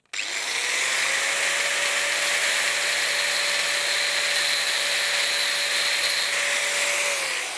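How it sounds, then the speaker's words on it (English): An angle grinder cuts steadily into a car's O2 sensor, a loud, sustained high whine with an even tone from start to finish, close by and with no voices. "Now I presume I can cut it with a grinder."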